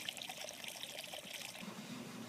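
Water runs through a fire sprinkler system's inspector's test valve, a faint steady trickling pour heard at a distance for a couple of seconds, with no voices.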